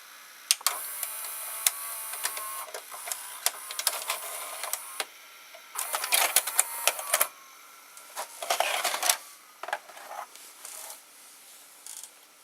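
A JVC HR-A56U VCR tape loading mechanism and its motor whir, click and clatter through several bursts of mechanical rattling and ticking, close and moderately loud, separated by quieter pauses.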